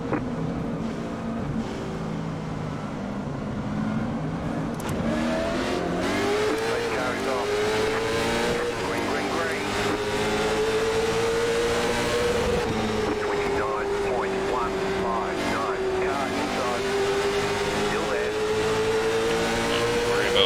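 A pack of short-track race cars roars off at the green flag at Langley Speedway in iRacing, a loud continuous engine drone rising in pitch as they accelerate, with a voice talking over it.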